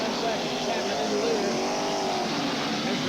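Race cars roar around the track near the end of the 1985 Kenny Simpson Memorial Race, a dense continuous engine drone with shifting pitch, loud and sustained, with a commentator's voice over it.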